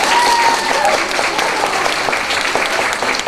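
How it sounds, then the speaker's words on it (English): A loud burst of audience applause at a hospital's holiday season celebration and tree lighting, dense steady clapping throughout, close and full. "Can we give Miss Jill a big round of applause?"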